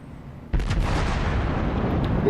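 A heavy battleship broadside in a naval video game fires a Fuso's guns with a sudden deep boom, followed by a sustained rumbling roar that rolls on for about two seconds without any talk.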